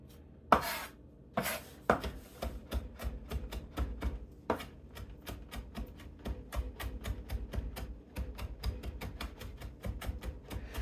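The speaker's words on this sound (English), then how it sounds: "I chop this and the parsley and the chives" A knife chops garlic, parsley and chives on a board in quick, even, steady taps that run almost continuously, close and fairly loud, with a few harder strikes at the start and no voices.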